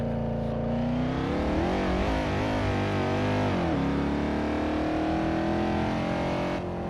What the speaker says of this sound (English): that fucking S60 so loud